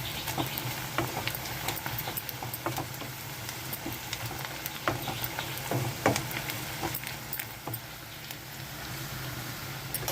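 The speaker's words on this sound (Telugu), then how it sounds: "వేగుతున్నాయి కదండి ఉల్లిపాయలు ఇంకా వేగాలి ఈ లోపల నెయ్యి వేసుకుందాము" Onions fry in ghee in a pot for egg dum biryani, giving a steady, fairly quiet crackle and patter throughout with occasional sharper pops, and no voices.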